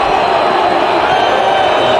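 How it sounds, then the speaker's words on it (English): Loud, dense roar of a college football stadium crowd at a Division I-AA semifinal in Montana, a steady wash of cheering and shouting with no breaks across the whole stretch. "The crowd getting loud."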